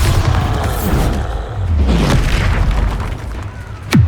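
The Bombarda spell in Hogwarts Legacy goes off as a loud booming explosion with a rumbling tail, followed by further bursts and a sharp pop near the end, close and alone.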